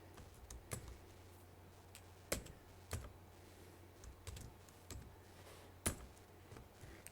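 Code being typed on a computer keyboard: scattered, irregular key taps, close and fairly quiet, with a few louder strokes and pauses between, and no talking.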